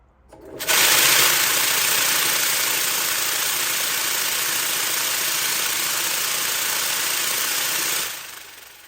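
A vibratory rock tumbler with its lid off switches on and runs with a loud, harsh, steady vibrating roar for several seconds, then stops abruptly.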